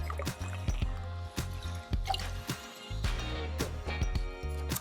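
Simple syrup, a one-to-one mix of sugar and water, pours into a cocktail shaker in repeated short glugs, with close clinks and drips and no talk.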